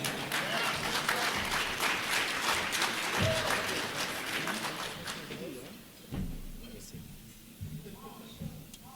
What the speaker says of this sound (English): And you can clap hard for me now.